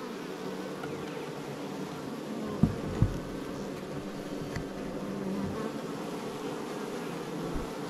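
Honeybees hum steadily from a top bar hive frame being worked during a colony transplant, a dense, continuous buzz with a few sharp knocks near the start.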